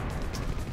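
Explosions and blasts in the real-time strategy game OpenRA Tiberian Dawn, a dense steady rumble of crashing impacts and bursts running through the whole moment at moderate loudness, with no clear voice over it.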